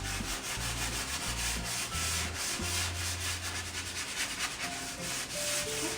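Steady abrasive rubbing of a roughly 300-grit sanding block lightly run across a transfer-decorated surface, continuous back-and-forth strokes, close and moderately loud, with no voices.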